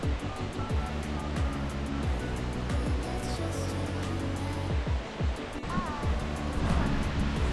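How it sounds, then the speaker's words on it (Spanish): A thunderous 133-metre waterfall pours among forest and rocks on the Kumano Kodo in Japan, a dense continuous roar of falling water that stays loud and close throughout, with no speech. "dejando que el sonido atronador del agua y la bruma fresca me envuelvan"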